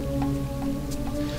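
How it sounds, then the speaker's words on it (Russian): Steady rain in the video game Shenmue, with scattered droplets tapping, set against a constant tonal hum, sounding like a synthetic ambient rain loop. "О, сегодня у нас дождик."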